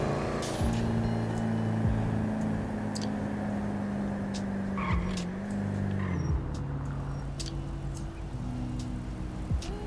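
A ghost car with no driver rolls through a video game scene, its engine a steady low drone with tonal shifts that dip and slide like skids, running continuously under other game noise without talk.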